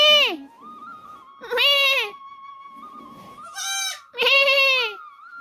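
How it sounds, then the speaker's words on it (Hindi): A young goat bleats four times in loud, wavering cries with pauses between, close by, while a faint steady tone hums underneath. "बकरी का बच्चा अंदर शोर करे मैं।"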